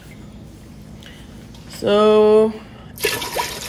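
Water splashes and pours into a big cooking pot for white rice for under a second, right after a brief spoken word over a quiet kitchen background.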